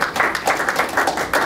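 Short burst of audience clapping at a REALTOR party gathering, a few uneven rhythmic pulses of hand claps, fairly close and brief.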